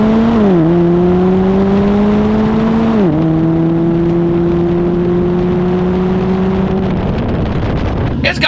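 A 300HP turbocharged Buick Encore with a turbo-back side-exit exhaust and all-terrain tires drives along, its loud droning exhaust note holding steady and dipping with gear changes. Wind and road noise sit under the engine, close to the microphone.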